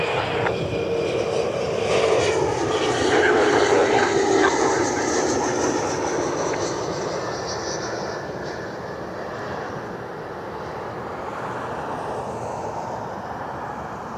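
An airliner taxis onto the runway at Cleveland Hopkins airport at night. Its jet engines give a broad, continuous roar from a moderate distance, swelling slightly and then easing, with no voices.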